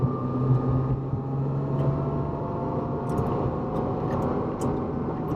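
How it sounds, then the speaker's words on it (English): A 1979 Porsche 911SC engine heard from inside while driving, a steady droning hum with low rumbling tones that holds fairly even throughout, with no voices. "Engine builds really nicely."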